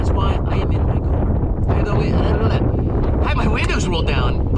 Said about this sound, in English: Whew, you hear that? That is the wind.